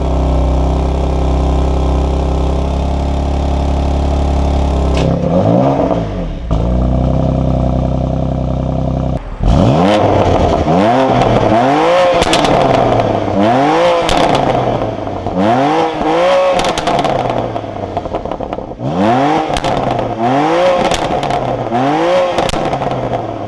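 Stock BMW M2 Competition engine idling steadily, then revved repeatedly in sharp, loud bursts that rise and fall with crackling burbles between blips, close by and with no voices.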